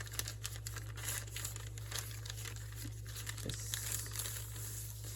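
Paper crinkles and rustles up close as a fold-out page in a handmade ocean-themed journal is opened out, with soft continuous crackling and a few sharper crisp bursts over a low steady hum.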